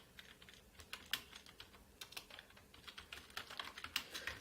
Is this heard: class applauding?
no